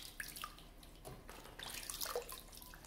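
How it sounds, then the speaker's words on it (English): Water splashing in a wash bowl as soap is rinsed off a face, faint and close, with small irregular drips and splashes. "I'm just going to rinse the soap off"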